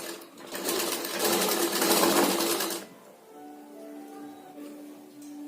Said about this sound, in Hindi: यहाँ से हम इसको सिलाई लगा देंगे